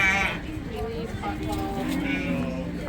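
Sheep at a 4H sheep show bleat repeatedly in a short, wavering series, fairly close, with people talking and background noise from the show around them.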